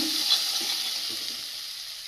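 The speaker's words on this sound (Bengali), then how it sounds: "ভেজে নেব" Desi chicken fries in a pan with a steady, close hiss and crackle, a soft stirring scrape now and then, no voices.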